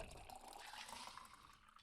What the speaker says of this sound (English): Water pouring.